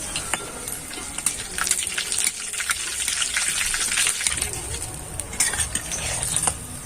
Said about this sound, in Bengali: এবার এখানে তেলটা খুব ভালো করে গরম করে নিয়েছি। এবার একে একে ছেড়ে দেব।